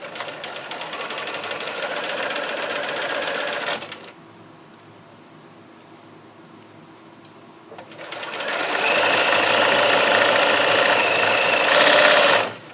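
A sewing machine stitches through the handles of a large market bag in two loud, rapid running bursts separated by a quiet pause of several seconds.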